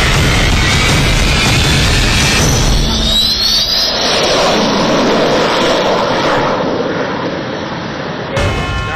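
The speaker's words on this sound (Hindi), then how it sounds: "पहले विमानों की हाईवे पर पूरी लैंडिंग देखिए" Mirage and Sukhoi fighter jets landing on the Agra-Lucknow expressway, a loud, continuous jet engine roar and rushing noise that swells and fades as the aircraft pass close by.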